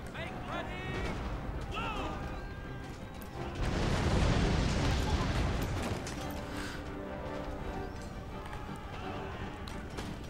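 Horse artillery fires in the Empire: Total War game. A steady wash of battle noise runs throughout, with a louder swell of booming fire around the middle and an indistinct voice mixed in.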